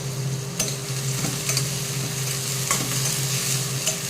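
Five large onions with two bay leaves fry steadily in a pan, a continuous close sizzle broken by occasional scrapes and stirring knocks from a spoon, with no voices.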